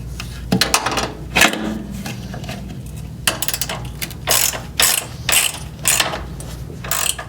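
A ratchet tightens a fitting on a street light and horn kit, giving close, sharp clicking bursts in quick runs with short pauses between strokes.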